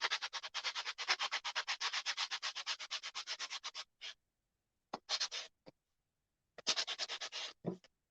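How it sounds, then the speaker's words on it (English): Quick rhythmic back-and-forth strokes of sandpaper scratching painted wood, a fast run of rubs, then short bursts separated by pauses. "I want to just give it just a little bit of sanding."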